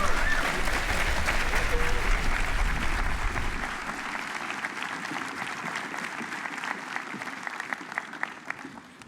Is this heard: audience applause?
yes